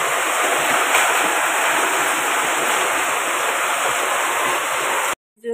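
Heavy rain pouring down for hours over a flooded railway platform, a loud, dense, continuous hiss that fills the scene before cutting out abruptly near the end.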